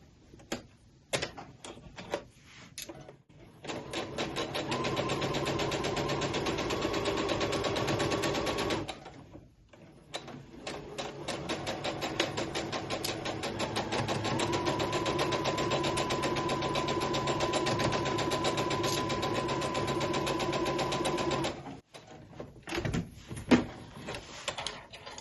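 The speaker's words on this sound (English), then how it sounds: "And then I'll sew that one again." A sewing machine stitches quilt blocks together in two long, steady runs of rapid mechanical whirring and needle clatter. The runs are separated by a brief pause, and there are short handling clicks and taps before, between and after them.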